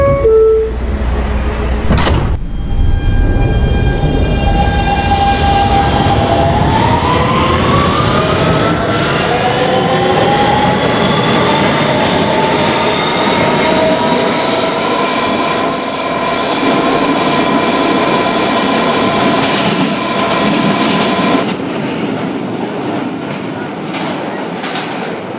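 A Siemens R160B subway train on the BMT Broadway Line in Roblox, accelerating with a rising whine of motor tones that climbs and then holds steady over a loud continuous rumble, with a sharp knock early on.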